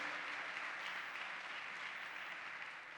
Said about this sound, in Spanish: Dele un fuerte aplauso a ese Rey de gloria